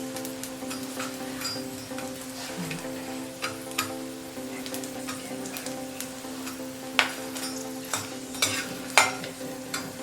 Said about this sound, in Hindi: तो इसलिए इनको चला चला के बहुत देर भूनना पड़ता है।